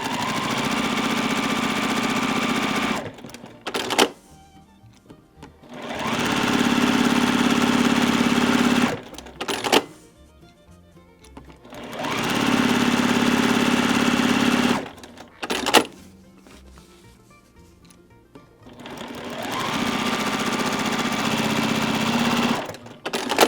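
A sewing machine stitches straight lines across a quilt block in three long, steady bursts of loud mechanical whirring, separated by quiet pauses.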